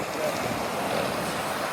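Strong wind and rough sea waves roar around a small fishing boat out on open water, a continuous broadband rush with wind buffeting the microphone and no clear breaks.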